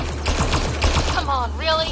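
Rapid gunfire bursts in the sci-fi shooter Mass Effect Andromeda, a stuttering volley of shots layered over a steady game soundscape, with synthetic tonal effects sweeping in toward the end.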